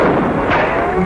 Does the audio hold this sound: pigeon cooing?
no